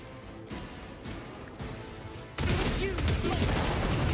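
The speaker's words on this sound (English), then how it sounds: "Explosions!" Explosions in the video game Warhammer 40k: Rogue Trader, a loud broad burst at about the midpoint that stays dense and sustained to the end, after a quieter stretch of game sound with a few soft thumps.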